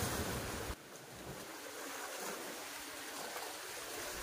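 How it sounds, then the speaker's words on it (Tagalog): Large waves breaking and surging on open water during a fishing outing, a steady broad wash of surf with wind noise that drops slightly after a brief louder opening. "Nabasa tayo mga bro sa lalaki ng alon."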